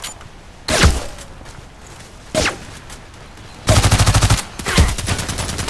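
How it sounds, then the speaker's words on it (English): Mortar strike explosions and gunfire in the video game Contract Wars on a small map, with sharp booming impacts spaced apart followed by a rapid burst of automatic fire and further shots. "This might be a good place to use my mortar strike."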